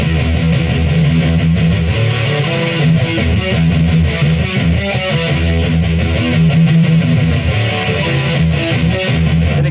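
Electric guitar plays the main riff of a metal song, a dense, loud, continuous run of distorted chugging notes with no talking.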